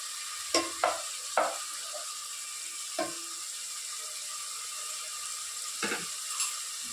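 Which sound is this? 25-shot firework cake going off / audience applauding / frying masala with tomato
frying masala with tomato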